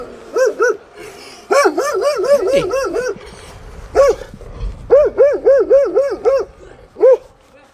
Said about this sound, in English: That dog wasn't very friendly.